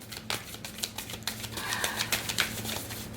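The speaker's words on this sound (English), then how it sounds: "But that's why you're watching me shuffle" Tarot cards are shuffled close by in quick, irregular papery clicks and riffles over a low steady hum.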